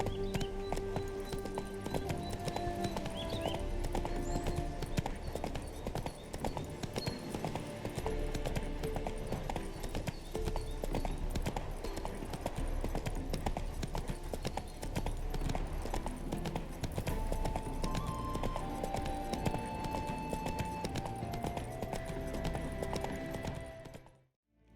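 Roach, Geralt's horse in The Witcher 3, gallops steadily for the whole stretch, a constant clip-clop of hooves under thick music and ambient game sound, with a brief whinny possible.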